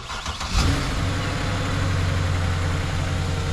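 A Mercedes E-Class W212 4Matic engine runs steadily at idle, a low, even hum that settles in after a brief louder onset near the start, with no voices.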